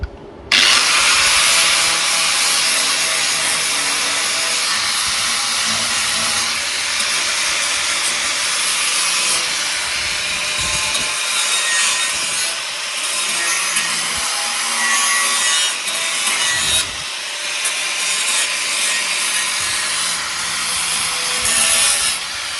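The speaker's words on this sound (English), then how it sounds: "My flap disc is starting to get a bit blunt." A flap disc grinder with a worn, blunt disc scours a car bumper in a continuous loud, harsh hissing roar, close by, with brief dips in pressure and no talking.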